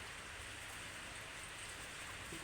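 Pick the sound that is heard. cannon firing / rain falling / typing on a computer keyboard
rain falling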